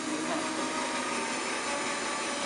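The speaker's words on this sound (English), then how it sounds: "When you're drilling through a round ball, that's really dangerous." A battery drill bores through an old wooden croquet ball, giving a steady, dense, close-up grinding whine that holds without a break throughout.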